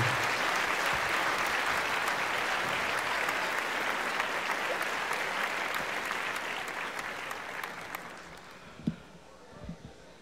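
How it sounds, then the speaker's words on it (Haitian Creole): A large audience claps steadily at the Plezikanaval Awards 2015 ceremony, a dense, sustained wash of applause that slowly thins toward the end. "Put your hands together."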